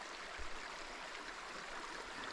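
A mountain stream near high-elevation lakes in Great Basin National Park flows with a steady, even rush of water, a constant close hiss with no breaks or voices.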